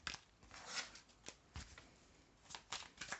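Tarot cards being shuffled, a series of quiet papery riffles and flicks in irregular bursts, close and soft, without talk.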